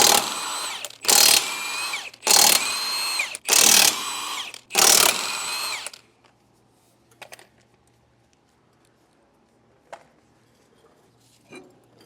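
An impact wrench removes the lug nuts from a trailer wheel on a 3,500-lb axle: five loud ratcheting bursts in quick succession, each about a second long, then quiet with a few faint clicks and clanks.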